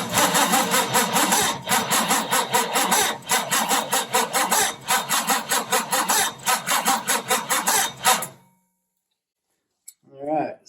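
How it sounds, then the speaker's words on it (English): A 1968 Firebird engine turns over on its starter during a compression test, a loud rhythmic cranking chug lasting about eight seconds before cutting off abruptly, followed by brief faint movement. "We'll crank it over and see what cylinder 1's got."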